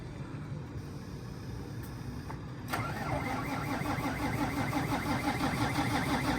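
A Fendt 936 tractor, broken down in a yard, is cranked: a low starter churn runs for a few seconds before the engine catches into a steadier, louder mechanical rumble.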